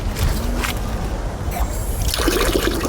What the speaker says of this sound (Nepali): यो चाहिँ पिउने पानी भयो